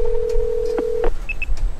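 Telephone tones as a number is dialed: a steady tone cut by a few short beeps, then two quick higher beeps, loud and close.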